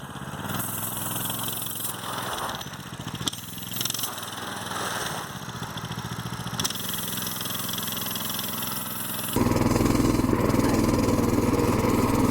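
Small engine of a Coleman BT200X mini bike revving steadily as the tire spins in snow, a continuous close buzzing drone that swells and grows louder and rougher near the end.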